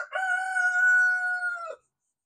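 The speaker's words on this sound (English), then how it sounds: "crowing." A big rooster crows once, near and loud. The cry is a single long, steady call lasting just under two seconds, then cuts off to silence, with no speech.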